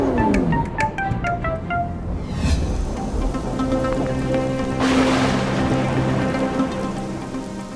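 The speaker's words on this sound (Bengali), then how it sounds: "ইস, কি জোরে বৃষ্টি পড়ছে" Heavy cartoon rainfall pours down in a steady, dense wash after a few bright plinking drops at the start, loud and continuous with no voices.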